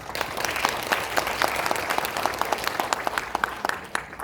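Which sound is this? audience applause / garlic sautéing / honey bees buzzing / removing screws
audience applause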